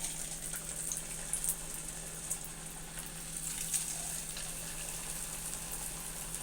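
Potato smileys sizzle in hot oil, a steady faint hiss of frying with no talk.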